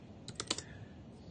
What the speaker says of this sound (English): So I'm just typing this in.